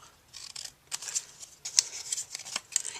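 Scissors snip quietly through paper to cut flower petals for paper rosettes, a close run of short, crisp cuts in uneven bursts.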